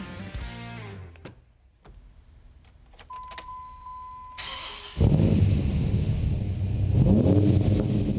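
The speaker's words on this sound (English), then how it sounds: "we can't finish the day without at least hearing one of these trucks, so let's fire this thing up" A modified muscle pickup truck cranks with a whirring starter, pauses with brief clicks and a chime, then catches and roars loudly, revving up and down near the listener.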